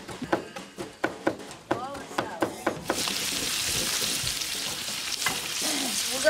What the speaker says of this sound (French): Pour la fricassée de fèves, Mamie Paul fait d'abord revenir du lard.